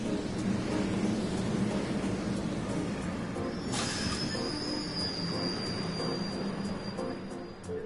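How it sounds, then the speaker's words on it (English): A train rumbles steadily in the video game Trails of Cold Steel, with wheels squealing in a high sustained whine partway through over the continuous rolling noise. "Alright, we're riding trains."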